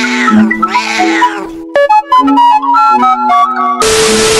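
Short synthetic cat meows from a Roblox Brookhaven roleplay game, a couple of tonal mews at the start followed by game music and electronic jingle notes, ending in a burst of noise.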